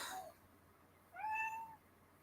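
A pet cat gives two meows: a short, quiet one at the start and a longer, rising-then-falling meow a second later, close and clear over a quiet room.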